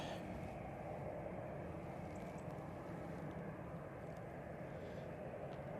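An arriving airliner at Manchester Airport, a steady broad engine roar that stays loud and constant throughout without pause, with no voices.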